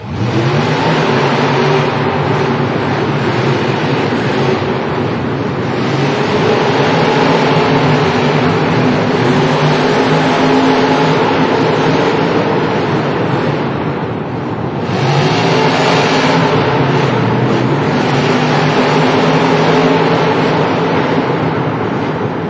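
Monster trucks Excalibur and El Toro Loco race side by side in a stadium at a Monster Jam Miami event, their engines roaring loudly and steadily throughout, with brief dips in the drone before it surges again.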